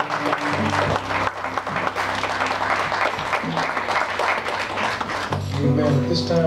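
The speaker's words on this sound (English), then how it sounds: "Come on, let's give him a hand clap of praise." Congregation in a Baptist church in Sweet Home, Arkansas clapping hands in praise, a dense steady patter of many hands with sustained organ or keyboard tones beneath and voices joining near the end.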